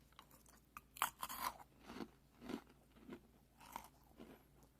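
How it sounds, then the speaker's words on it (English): Crunching into a honey mustard and onion pretzel from an MRE, a quiet series of sharp, close bites and chewing crackles in irregular bursts, with no talking. "That's a salty, savory crunch."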